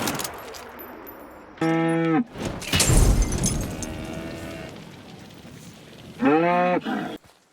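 Cows mooing in Hunt: Showdown's Mammoth's Gulch, two loud, drawn-out bellows a few seconds apart over rustling ambient noise.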